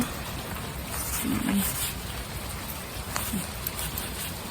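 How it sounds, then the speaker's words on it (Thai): Steady rain patter heard from a rain shelter fills the scene with a constant wash of hiss, a few brief low thuds underneath, no voices. "บรรยากาศหนาวหนาวฝนตกนะคะ"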